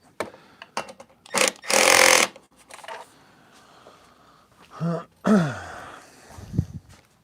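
Hand tool work on a BMW R1250GSA motorcycle as torque is adjusted, giving several short ratcheting and mechanical bursts with a longer grinding stretch near the start and clicks between quieter gaps.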